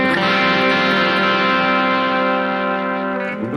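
Harley Benton Fusion electric guitar played with a distorted tone, a sustained, thick chord ringing loud and steady for a few seconds before tapering slightly, with no voices.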